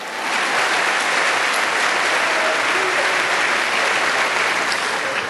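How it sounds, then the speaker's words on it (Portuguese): A church congregation gives a sustained burst of dense, loud applause. The steady clapping continues without a break for the whole stretch, and no distinct voices rise above it. "Dá uma oferta de palmas ao Senhor."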